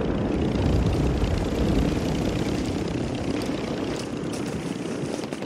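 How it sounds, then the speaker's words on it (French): Helicopters in a battle video game drone loudly overhead, a steady dense rotor and engine roar that holds close throughout and eases slightly near the end. "Deux hélicos, ah il nous fly dessus"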